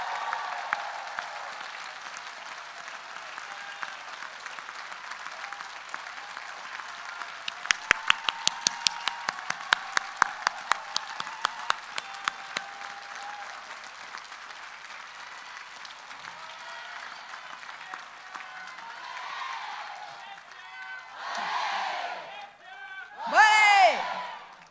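Audience at a library conference closing session applauds its volunteers, a long wash of distant clapping with a run of sharp close claps midway, then rising whoops and cheers near the end.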